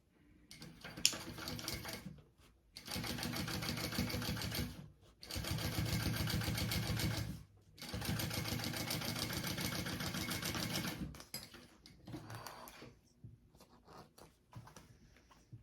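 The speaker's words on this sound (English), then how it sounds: "I'm going to top stitch along this outside panel that we just added on through that seam allowance" A sewing machine top stitches along the outside panel of a phone sling bag through the seam allowance, running in three long steady bursts separated by short pauses, close and loud, then trailing off into quieter handling.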